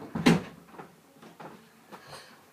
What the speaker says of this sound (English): Just shut my door.